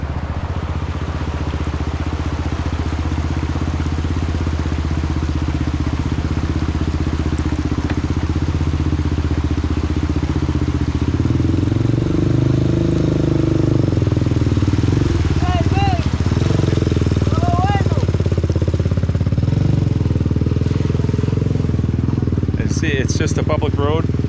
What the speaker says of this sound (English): you'll see vehicles actually cross this road